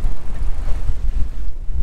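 Steady wind buffeting the microphone on a fishing boat off Islamorada, a low rumbling roar with gusty swells throughout and no voices.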